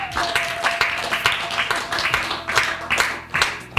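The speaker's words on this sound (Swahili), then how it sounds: "Pigie Bwana Yesu Kristo makofi." Church congregation clapping in rhythmic bursts during worship, a steady sustained tone running underneath, with a louder burst at the very end.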